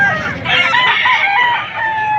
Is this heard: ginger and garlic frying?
no